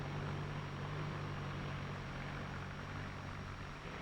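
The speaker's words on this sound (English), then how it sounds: "You can actually hear this difference as the new Ford tractor passes by." A 1953 Ford NAA Golden Jubilee tractor engine drones steadily as it passes by, a continuous low rumble that holds fairly even before easing slightly at the end.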